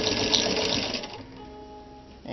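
A Singer 15-91 sewing machine stitching heavy fabric such as layered denim, switching between reverse and forward, with a steady close mechanical whir that slows and fades near the end.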